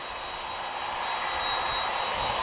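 A Ryanair jet at Lisbon Airport, its engines giving a steady, loud roar that swells slightly toward the end, heard alone with no voices.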